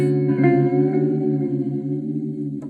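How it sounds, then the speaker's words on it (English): A sustained guitar chord played through an Echolalia delay pedal set to sine-wave modulation rings out with smoothly wavering, chorus-like repeats, fairly loud and alone, fading slightly toward the end. "you've got a three-way toggle switch here for waveform selection: sine wave,"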